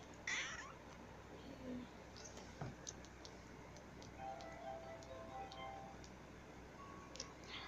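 A pet cat meowing indoors during a Poképark Wii gameplay session; a few faint, short meows over low background noise and light ticking.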